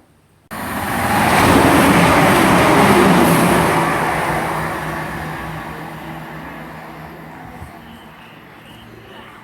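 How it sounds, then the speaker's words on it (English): A passenger train runs through Gerrards Cross station, rising sharply into a loud, broad rushing roar with a rail rumble and then fading slowly as it moves away, with no talking. "we just saw on the other side a passing service to Birmingham Moor Street"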